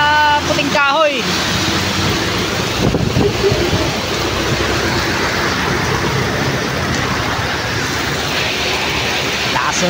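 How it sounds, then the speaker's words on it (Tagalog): Heavy typhoon rain pours down steadily in the Philippines, a loud, dense roar of water near a small store, with people talking over it. "Lakas ng ulan, grabe."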